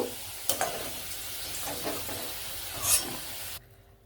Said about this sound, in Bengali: এবার আমি ওই তেলেতেই পনিরগুলোকে একটু ভেজে নেব।